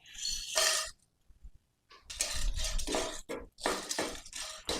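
Whole spices, fennel, cumin and black peppercorns, being dry-roasted in a pan, with bursts of close metallic clinking and scraping of a spoon against the pan separated by short quiet gaps.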